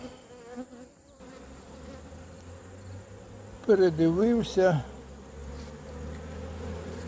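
Steady buzzing of Buckfast honeybees fills the background, with a brief spoken word and a short whiny vocal sound rising over the hum.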